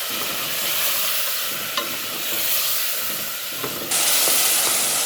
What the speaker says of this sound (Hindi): हम इसकी दही के साथ इसकी भुनाई करेंगे